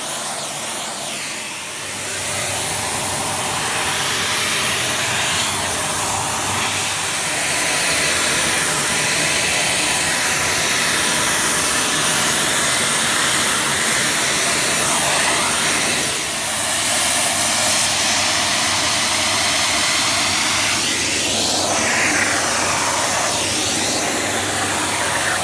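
A Dyson DC39 vacuum cleaner runs steadily and loudly throughout, its broadband motor whine and airflow hiss holding constant with slight shifts in pitch as it moves, and no voices present.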